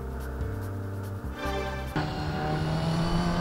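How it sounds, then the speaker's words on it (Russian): A Toyota Corolla rally car's engine in the racing game Gran Turismo 3, revving steadily with sharp gear changes and a rising pitch after each shift, close and continuous with no talking. "сейчас у нас Королла Rally Car"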